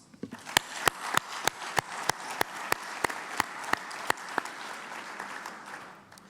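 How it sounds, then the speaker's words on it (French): A union congress audience of the FO agriculture federation claps in slow, rhythmic unison, a series of sharp evenly spaced collective beats roughly every third of a second over a soft crowd murmur. "On peut les applaudir, je pense."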